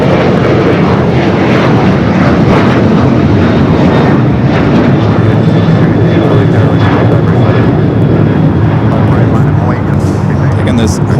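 An Emirates airliner in UAE flag livery moves at Los Angeles LAX airport, its engines producing a loud, steady, broadband roar that holds unbroken throughout.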